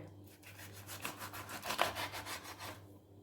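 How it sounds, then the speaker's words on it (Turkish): A knife blade saws back and forth through a raw chicken thigh to separate it at the joint, giving a steady run of close, rhythmic scraping strokes for about three seconds over a low background hum. "O eklem yerinden keseceğim."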